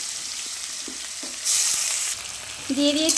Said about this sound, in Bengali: কুচনো পেঁয়াজ আর একটা গোটা রসুন দিয়েছি। এখন এটা ভালো করে একটু ভেজে নিব